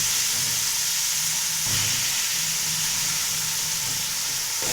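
Chicken frying with onions and spices in a pot for murgh pulao. A loud, close, constant sizzle and hiss carries a brief stir or clatter partway through. Nobody speaks.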